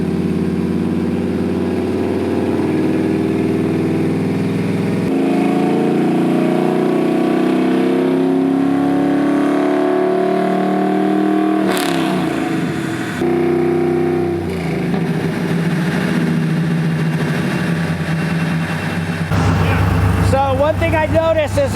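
A 1964 Chevelle engine on a dyno, running steadily and loudly for the whole stretch with several shifts in pitch as it revs up and settles, and a sharper burst near the end.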